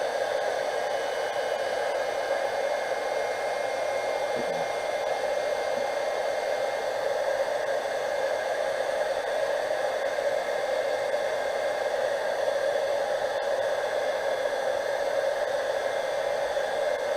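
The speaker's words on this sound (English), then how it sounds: "it's going to be a little noisy, but I'm just going to dry it up a little bit." A steady, loud whooshing blower drying craft paint on a pumpkin roars continuously close by, like a heat gun or hair dryer running without pause.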